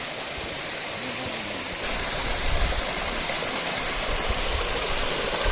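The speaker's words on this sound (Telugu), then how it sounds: "దారిలో జలపాతాలు." A waterfall-fed mountain stream rushes beside a forest pilgrimage path toward Sabarimala, a steady close roar of flowing water that grows slightly louder partway through, with no voices.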